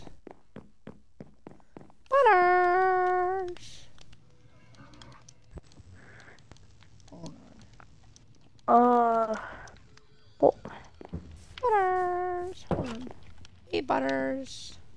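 A cat in a video game gives several clear, tonal meows spaced across the stretch, with soft footsteps and thuds between them.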